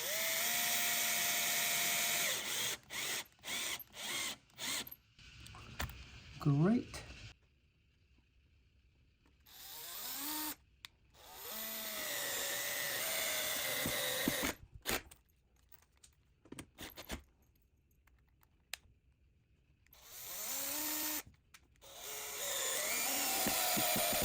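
A power drill whirs in short bursts while a door kick plate is fastened to a door, running in forward and reverse with pauses between spins, close and loud, with a brief spoken word near the end.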